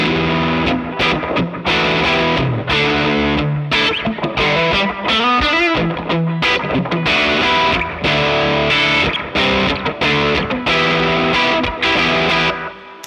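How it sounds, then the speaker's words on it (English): Electric guitar played through a slapback delay pedal on a custom JAM Pedals pedalboard, a loud distorted riff with short single repeats that punch out each note, with pitch bends midway and no talking. "I think slapback delay is just wonderful."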